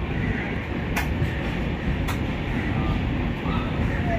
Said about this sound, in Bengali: এই ট্রেনের নাম হচ্ছে পুরী আনন্দ বিহার নন্দনকানন এক্সপ্রেস।